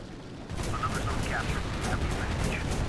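Artillery fire in the War Thunder tank game, a loud rumbling barrage that starts abruptly and continues steadily, with speech-like sounds over it.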